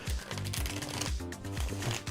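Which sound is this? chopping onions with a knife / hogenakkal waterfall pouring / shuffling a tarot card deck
shuffling a tarot card deck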